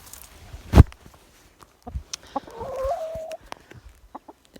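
A few chickens cluck and murmur nearby in short scattered bursts, with a sharp thump early on and light rustling around them.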